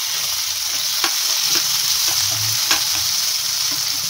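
Onions frying in a pan give a steady, close sizzle with a bright constant hiss, broken by a few soft spatula taps and scrapes.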